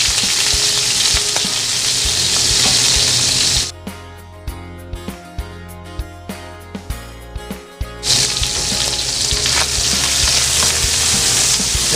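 Shrimp sizzling loudly in a hot pan for Filipino chop suey, a dense steady fry that drops to quieter stirring with sharp clinks of a utensil midway, then returns to full sizzle.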